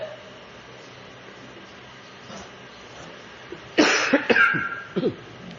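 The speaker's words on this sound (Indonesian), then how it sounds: "kalau batuk itu ujian bukan" A sharp cough bursts out after a few quiet seconds, followed by a couple of smaller coughs, close and fairly loud.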